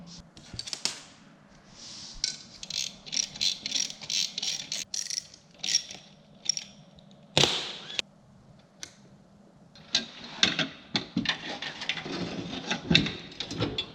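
A ratchet loosens a suspension part on a Cummins-swapped Land Rover Discovery, giving irregular clicking and metallic ratcheting bursts with brief pauses, close and fairly crisp, and no talking.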